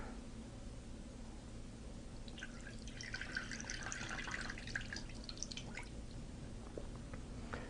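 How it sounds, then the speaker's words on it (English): Rinse water poured off a batch of homemade butter, a faint trickling and dripping that swells in the middle and then thins out, heard alone and close over a low steady hum. "And then pour off that water."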